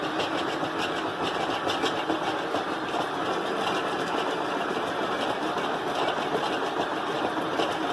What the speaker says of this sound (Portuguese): Na batedeira, para que não ocorra nenhum tipo de problema, você sempre vai começar pela velocidade baixa.